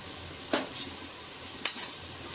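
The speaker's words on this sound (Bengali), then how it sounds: "আলুগুলোকে এভাবে প্রত্যেকটা কাঁটা চামচ দিয়ে ফুটো করে দেবো" A fork pierces peeled whole potatoes for aloo dum biryani, giving two short, sharp clinks about a second apart against a quiet kitchen background.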